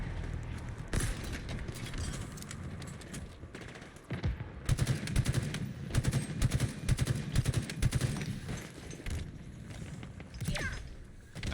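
Rapid gunfire in a Halo MCC Big Team Battle match, with sustained automatic bursts and scattered single shots that swell louder midway, mixed with footsteps and battle noise.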